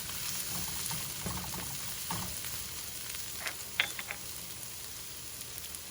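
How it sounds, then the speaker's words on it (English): Ginger and carrots frying in a little oil for fried rice, a close, steady sizzle with a few faint crackles and light stirring taps, no voices. "The more the ginger fries or cooks in that little bit of oil, the more fragrant it is"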